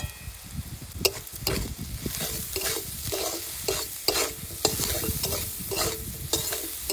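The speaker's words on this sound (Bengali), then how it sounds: "পেঁয়াজ ভাজা হয়ে গেছে" Onions fry in a pan with salt and turmeric as a spoon stirs them, a steady sizzle broken by repeated scraping strokes, close and clear.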